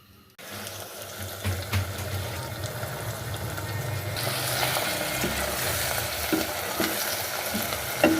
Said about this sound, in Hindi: मसाला मैं भून लेती हूँ